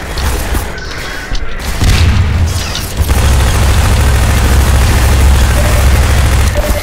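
A grenade blows up in the video game Half-Life 2, a heavy boom that settles into a loud, sustained rumbling roar lasting several seconds.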